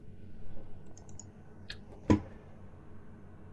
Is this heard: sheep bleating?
no